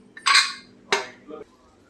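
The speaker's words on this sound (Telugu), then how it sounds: "మూత పెట్టేసుకుందాము" A metal pressure cooker lid is set onto the cooker on a stove, making three close metallic clanks, the first two bright and ringing and the last a duller knock, with quiet between them.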